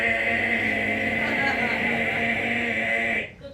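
A human voice imitates an old 1960s fire alarm bell in a 120-year-old building, producing a steady, continuous ringing tone held loudly for about three seconds before stopping abruptly.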